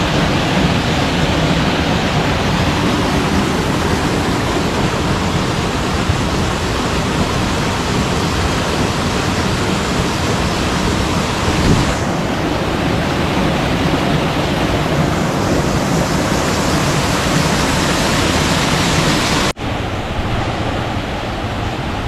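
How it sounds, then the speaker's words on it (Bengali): Steady, loud rushing of water at the Sonaichhara waterfall in the Mirsarai hills, a dense continuous roar filling the whole clip with no voices, shifting slightly in tone near the end. "এই যে ঝর্ণার একদম কাছাকাছি চলে আসছি"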